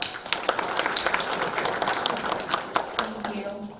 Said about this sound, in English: Everyone, please give him another round of applause.